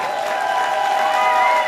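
A theater audience claps steadily in sustained applause after a show, a dense wash of hands, while a sustained musical chord rings over it.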